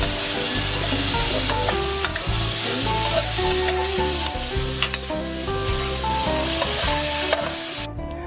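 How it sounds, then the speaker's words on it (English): Frozen seafood hitting a hot pan with fried garlic, crackling in a loud steady sizzle with stirring and scraping throughout, close and continuous. "you heard that sizzle"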